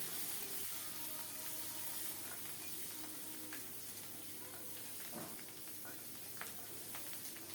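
Garlic and green chilies frying in hot oil, a steady soft hiss running throughout with faint clinks now and then, fairly quiet and close.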